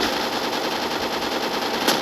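Rapid automatic gunfire in a shooting video game, a dense continuous burst of shots at steady loudness with a brief sharper crack near the end.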